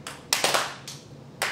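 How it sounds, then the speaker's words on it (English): During an improv session, members of a group each try for the loudest single clap they can make; several sharp, separate hand claps ring out at uneven intervals, close and fairly loud, with quiet between them. "make the loudest clap you can."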